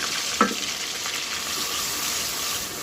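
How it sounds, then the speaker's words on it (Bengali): Ginger-garlic paste and cashew paste fry in hot oil for a Bangladeshi chicken biryani, giving a steady, close, loud sizzle throughout with one brief clink near the start. "এই তেলের মধ্যে এবারে আমি মশলা কষাবো এখানে আদা রসুন পেস্ট আছে"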